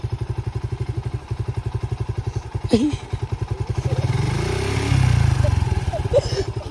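A motorcycle-type engine runs close by with a rapid, steady putter, a clunk as it is put into gear, then the note thickens and rises; voices talk briefly over it.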